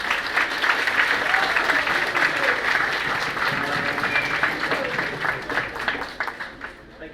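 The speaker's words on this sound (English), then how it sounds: "another round of applause for our jazz band" Applause for a high school jazz band at a band banquet: a full room clapping steadily and loudly, with voices mixed in, tapering off at the end.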